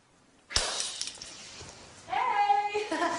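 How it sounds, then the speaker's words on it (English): A vase near a door clinks and rattles with a sharp, bright impact followed by brief ringing glassy tones, heard up close in a quiet room. "It's just the vase near the door, that's all."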